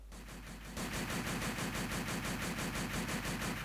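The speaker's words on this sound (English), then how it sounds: "so I couldn't continue shooting Hill." Rapid automatic gunfire from the Nintendo DS game Call of Duty: World at War bursts in abruptly and rattles on in an even, fast rhythm, loud and continuous.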